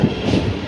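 A local train passing at a station on the Pune to Mumbai line, a loud, close rumble of rolling wheels and carriages filling the whole brief moment.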